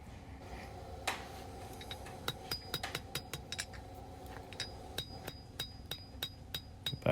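A blacksmith hand-hammers hot steel on an anvil while forging a knife, sharp ringing strikes coming in an irregular series, quick bursts of several blows with short pauses, close and clear.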